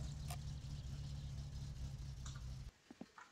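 A car engine idles in the My Summer Car driving game, a low steady rumble running continuously for most of the clip before cutting off abruptly, followed by a few faint clunks.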